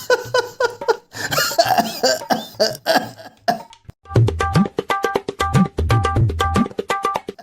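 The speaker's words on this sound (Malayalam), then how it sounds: "ഇപ്പൊ ചുമച്ച് ശ്വാസം മുട്ടി ചത്തേനെ" A person in a comedy skit coughs in repeated harsh, close bursts, sputtering and gasping as if choking, with brief pauses between fits.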